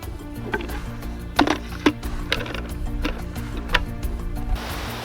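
Rhythmic hand pumping on a vineyard sprayer tank filled with water, a series of hollow plastic knocks and squeaks at a steady pace, close by over a low background hum.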